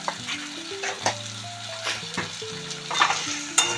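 Pomfret fish fries lightly in a pan, a soft steady sizzle running under clinks and scrapes of a utensil, with sustained tonal music playing over it throughout.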